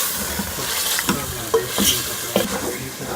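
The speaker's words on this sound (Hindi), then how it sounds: "हम इसको अच्छी तरह से मिक्स कर लेंगे, इसको भून लेंगे 1 से 2 मिनट के लिए।" Liver (kalaji) stirred and fried in a pan: continuous close sizzle broken by a handful of distinct spatula scrapes and knocks against the pan.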